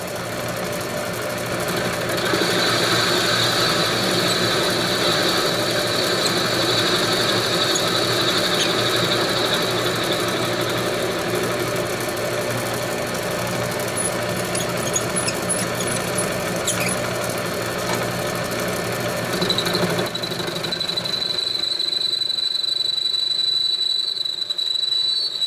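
A freshly cleaned metal lathe runs at normal speed, giving a steady mechanical hum with a high whine and faint squeaks, loud and continuous before cutting out sharply near the end.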